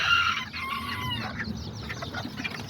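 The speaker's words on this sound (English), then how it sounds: "Damn, she's also a mean little chicken." A mean broody hen clucks up close, a harsh burst of squawking clucks followed by softer chattering calls, loud and alone with no voices.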